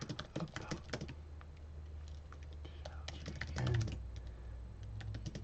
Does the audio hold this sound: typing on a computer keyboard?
yes